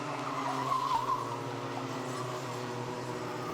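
Rotax Max Micro Max racing karts at Zwartkops circuit, a continuous buzzing engine drone with a brief tire squeal early on, heard at a moderate distance.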